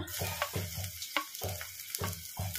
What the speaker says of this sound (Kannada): ಐದು ಬೆಳ್ಳುಳ್ಳಿ ತೊಗೊಂಡಿದ್ದೀನಿ ಅವನ್ನ ಗುಂಟನೆ ಜಜ್ಜಿ ಇಟ್ಕೊಂಡಿದ್ದೀನಿ ಈಗ ಇವನ್ನ ಹಾಕೋಣ